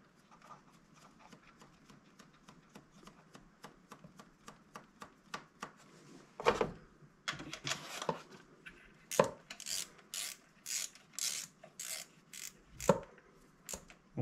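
An ignition coil bolt is tightened on a Peugeot 1.4 16v engine: a fast run of quiet ratchet clicks, then louder, irregular metallic clacks and knocks close by.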